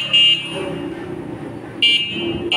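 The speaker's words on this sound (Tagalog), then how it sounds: "Kasi ito ang busina niya." Horn of a three-wheeled Kuromake electric bike sounding in short bursts, a brief honk at the start and a longer one near the end, moderately loud with a steady buzzing tone over low background noise.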